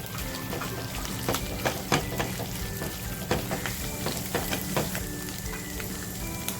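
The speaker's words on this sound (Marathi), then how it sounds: "आपली मिरचीसुद्धा तुपात अशी छान फ्राय झाली आहे जो बटाटा घेतला आहे तो बटाटा टाकते" Green chilies and small potato pieces frying in ghee for sabudana khichdi, a steady dense sizzle with occasional stirring scrapes and crackles, close up and continuous.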